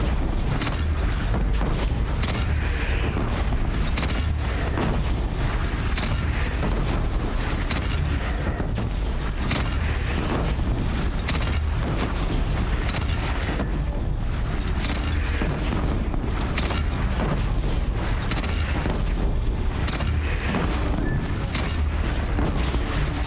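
Continuous dense rumbling battle noise from the video game Horizon Zero Dawn, with repeated heavy booms of cannon fire, loud and sustained throughout, no clear pauses.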